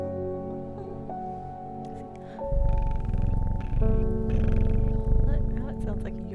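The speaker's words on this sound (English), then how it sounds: "Are you jealous of the black cat in my horticulture shop? It purrs." Steady low purring of a black cat from the game Strange Horticulture rumbles continuously, growing louder partway through, with faint game music tones above it.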